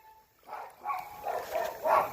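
Muffled, distant barking from a dog trapped inside a flooded house comes in a string of four or five faint woofs, rising in loudness toward the end, with no talking over it.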